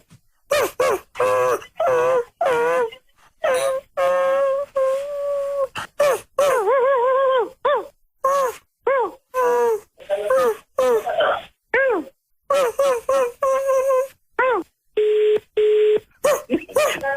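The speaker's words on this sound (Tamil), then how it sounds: "இது உங்க நாயா ஏன் உங்களுக்கு கால் பண்ணிட்டு இருக்கு" A dog's howling, moaning cries come through a phone line in short bursts separated by silences, sounding tinny and close.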